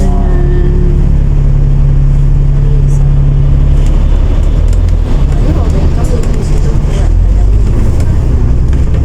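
Steady, loud road traffic on a Hong Kong city street, a continuous rumble of passing cars and buses with engine noise swelling and fading, people talking over it.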